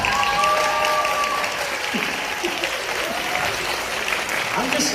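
Sustained applause from a live audience at a storytelling comedy show, dense and steady throughout, with faint voices and a few whoops rising over the clapping.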